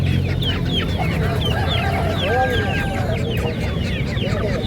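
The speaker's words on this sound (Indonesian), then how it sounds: "Ini anakan bangkok teman-teman." Young Bangkok gamecock chicks at a Sunday chicken market cluck and chirp continuously, many birds overlapping at close range amid steady crowd background noise.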